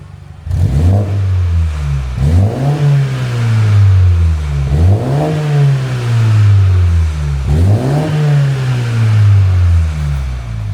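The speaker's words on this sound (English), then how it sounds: "Here's some revs, Connor." A Mini Cooper S engine with a custom rear muffler revs up sharply four times, each burst rising then falling back to a steady idle, loud and close.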